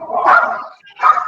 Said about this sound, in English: Puppy dogs.